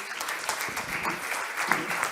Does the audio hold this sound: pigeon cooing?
no